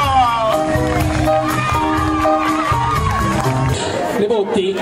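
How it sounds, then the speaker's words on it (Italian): A piazza crowd at a Palio roars and cheers for the winning women's team, Blu Amaranto, with a dense, loud, continuous wall of voices and shouts. "Un grande applauso di tutta la piazza alla squadra Blu Amaranto delle donne che ha vinto con merito il primo trofeo rosa"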